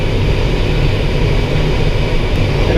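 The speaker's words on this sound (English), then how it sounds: "The plane is a L-19 Bird Dog. Cessna made them." Steady, loud piston-engine drone of a Cessna L-19 Bird Dog, a military surplus observation plane towing a Schleicher ASK21 sailplane, heard continuously from inside the glider cockpit with rushing air and no talk.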